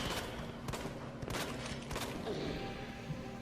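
Rapid bursts of gunfire aimed at a boss in Resident Evil 2 Remake. The shots repeat in quick clusters over steady game background noise, loud and close, with no talking.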